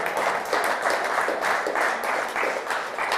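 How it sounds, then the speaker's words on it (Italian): Studio audience applauds the team captains returning to their buzzer stations on an Italian TV quiz show, steady dense clapping filling the whole stretch at an even, sustained level with no voices. "Facciamo un applauso ai capitani che si riaccomodano nella loro postazione con la pulsantiera."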